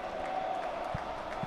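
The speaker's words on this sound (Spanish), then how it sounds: "Aplaude el banquillo visitante." The visiting team's bench claps at a basketball game, a faint, steady smattering of applause in a gym with crowd murmur.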